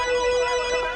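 A mobile phone ringtone plays close and clear for a moment, a steady electronic melody with no voices over it.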